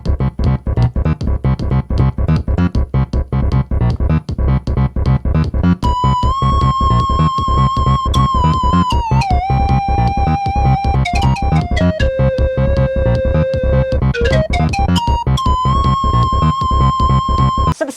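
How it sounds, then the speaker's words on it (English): A bass line played on a Super Nintendo used as a sampler runs loud and continuous over a steady pulsing rhythm, with a sustained gliding tone entering about a third of the way in and bending down and back up. "Let's see what we can get on the bass."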